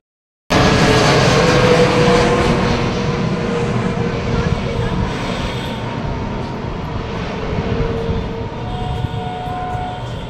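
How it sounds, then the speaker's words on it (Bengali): Fixed-wing airplane passing overhead above a level railway line at Madhyamgram, a loud steady engine roar that starts abruptly and holds for about ten seconds, slowly easing, with no talk. "ওপরে প্লেন আর নিচে সমতলের ট্রেন"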